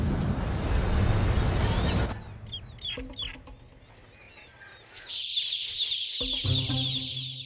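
Chickens on a poultry farm raising chicks cluck and call in bursts, with rooster-like crowing and sharp chirps, loud at first and then scattered near and far over a quieter background.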